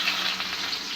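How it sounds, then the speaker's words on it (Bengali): Onions drop into hot oil tempered with cumin seeds, producing a loud, close, continuous hissing sizzle throughout the brief moment, with no voices. "পেঁয়াজ দিলাম সম্বারে।"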